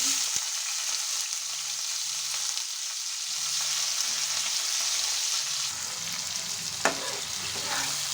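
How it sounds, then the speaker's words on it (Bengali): Chopped onions frying in oil in a wok, a constant bright sizzle holding steady throughout, close up, with one sharp clink near the end and no speech. "পেঁয়াজগুলো তেলে দিলাম"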